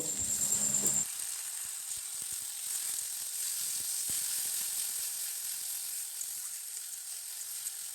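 A ginger, garlic and green chilli paste hits a hot pan with a short clatter, then settles into a steady, soft sizzling hiss that carries on alone at low volume.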